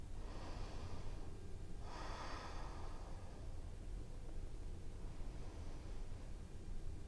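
Breathing through a seated yoga twist in an energizing morning yogalates routine, with a long airy inhale or exhale swelling near the middle and softer breaths later, close and steady over a constant hiss, no talking.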